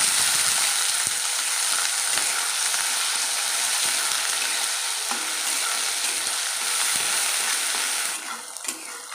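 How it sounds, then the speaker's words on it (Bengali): Chopped onions fry in hot oil with garlic for a fish jhuri, a steady broadband sizzle running loud and unbroken, with a few faint clinks of stirring before the sizzle dips slightly near the end. "এবারে দিয়ে দেবো কোচানো পেঁয়াজ"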